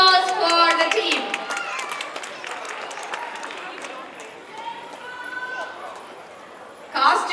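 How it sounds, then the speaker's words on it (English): Audience applause for a dance team at a stage event, a dense wash of clapping under a loud announcer's voice and crowd noise, with a fresh burst near the end. "Let's give a big applause for the team."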